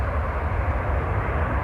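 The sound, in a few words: Brussels Airlines plane landing at Manchester Airport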